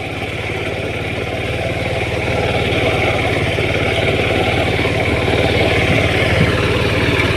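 A tractor engine runs steadily while working between four-foot-wide sugarcane rows during inter-row cultivation in a field, a loud, continuous, close drone with an even low rumble and no talking.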